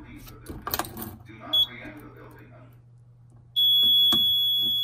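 A Simplex 4003 fire alarm panel sounds its evacuation signal. A brief beep comes first, then a loud, steady electronic tone that runs to the end. Indoor movement and a voice are heard before the tone.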